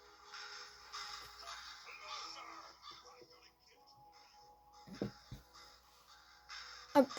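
Crows caw in the horror video game From the Doodler, harsh calls heard faintly amid low game ambience and a few sharp knocks, with a voice speaking briefly.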